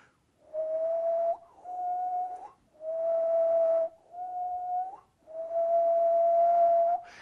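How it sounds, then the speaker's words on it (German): Five sustained low whistled notes with short pauses between them, each held steady at roughly the same pitch, close and fairly soft. "einen tiefen Ton zu pfeifen"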